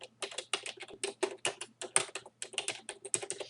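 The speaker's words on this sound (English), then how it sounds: "We're going to type the title of our paper one more time." Fingers type on a computer keyboard in quick bursts of crisp, close key clicks, with short pauses between runs of keystrokes and no talking.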